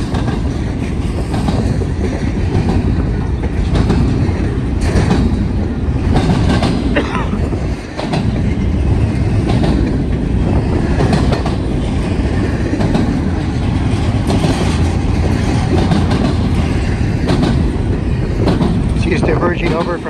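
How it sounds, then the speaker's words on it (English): A loud BNSF port stack freight train rumbles steadily past at close range, with rhythmic wheel clatter and clunks as it diverges over a track switch from main track 2 to 3. "train looks like it's switching from main 2 to main 3."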